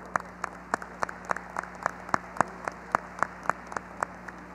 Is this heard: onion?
no